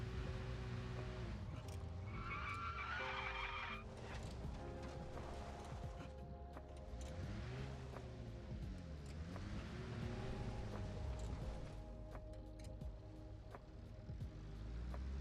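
A small truck in the video game Arma Reforger drives along, its engine revving up and down under strain at low volume, with occasional knocks and rattles and some faint background sound.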